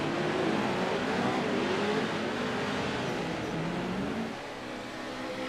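Pro-4 off-road race trucks roar steadily down the front stretch, their dense engine drone rising and falling as they pass close together, easing off slightly near the end.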